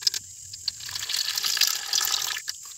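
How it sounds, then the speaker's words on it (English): Water is poured off settled gold sediment into a bucket, a light trickle that swells into a steady splashing pour and then tapers off in short dribbles, heard up close with no talking. "And let's decant this water here"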